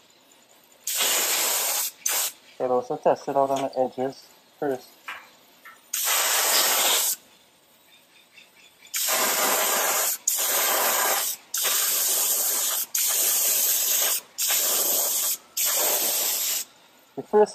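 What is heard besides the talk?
spray painting a plastic piece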